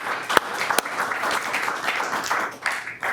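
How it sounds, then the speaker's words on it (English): Audience applause at a spine trauma lecture, a lively spread of clapping with a couple of sharp, close hand claps early on, sustained for a few seconds and fading slightly at the end. "another round of applause"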